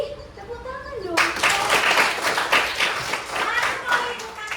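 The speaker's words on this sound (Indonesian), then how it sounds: "Wih, tepuk tangan dong" A classroom of students bursts into lively hand clapping after a brief voice, the applause dense and close, continuing steadily with uneven bursts for several seconds during a coding lesson.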